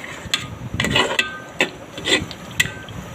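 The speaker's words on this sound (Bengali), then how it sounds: "আমি আবার ঢাকনাটা খুলে নিচে দিয়ে একটু নাড়াচাড়া করে দিচ্ছি, যাতে নিচে না লেগে যায়" Duck meat curry being stirred in a pot with the lid just lifted, a series of close scraping and rubbing strokes of a spoon against the pot bottom, irregular and moderately loud, with no talking.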